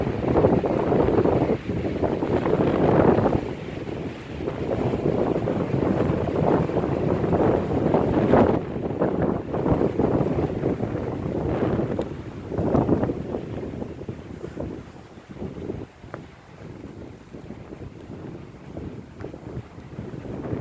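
Strong wind gusting through a cemetery at night, a loud continuous roar buffeting the microphone with surging peaks throughout, no voices.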